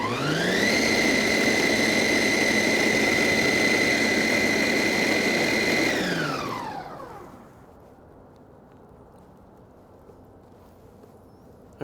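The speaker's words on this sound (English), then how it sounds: "I'm gonna break this down pretty fine" A food processor running loud and close as it chops chimichurri herbs finely, a steady high whirring motor drone for about six seconds that then winds down into quiet.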